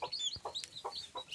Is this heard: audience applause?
no